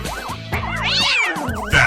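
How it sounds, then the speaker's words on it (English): A cat meows repeatedly, three or four distinct close, loud meows in quick succession with rising and falling pitch, no voices over it. "It's a cat."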